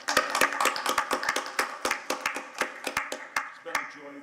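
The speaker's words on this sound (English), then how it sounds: "we didn't really have a chance to applaud Amanda" Board meeting attendees clap by hand in a small, quiet room, a sparse group giving distinct close individual claps that thin out toward the end, with a voice briefly audible.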